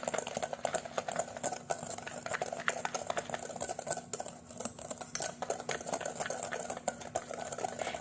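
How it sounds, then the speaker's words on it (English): Cobbler batter with sugar and salt being stirred in a bowl, a quiet, continuous scraping and tapping of a utensil with a faint steady hum underneath and no talking. "and just give it a good mix."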